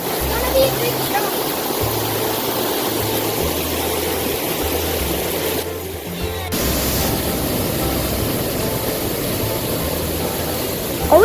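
Waterfall in White Oak Canyon, Shenandoah National Park, a steady broadband rush of falling water close by that fills the clip, with a brief dip in the middle and wind-like low rumble underneath.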